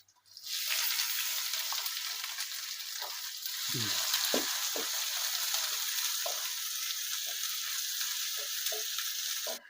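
Steady, bright sizzling of crushed garlic and shallots frying in hot oil, with occasional soft clinks and pops as they are stirred.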